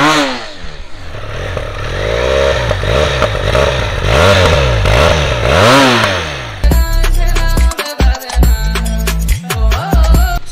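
A Benelli TRK 502 motorcycle engine revs up and down in repeated rising and falling swells, loud and close, then changes to a rough, clattering rumble with chopped bursts.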